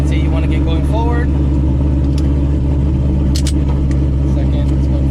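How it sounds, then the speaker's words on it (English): Shelby GT500 pulling forward in first gear, a steady low engine rumble up close, with a brief voice early on. "so you'll see the car go forward"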